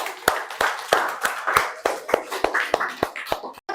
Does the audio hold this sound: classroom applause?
yes